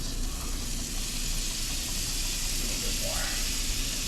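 Butter melting in a hot pan while making a simple sauce for scallops, giving a steady, even sizzle that holds at the same moderate level throughout.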